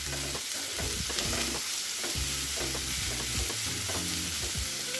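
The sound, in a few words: onions sautéing in a pan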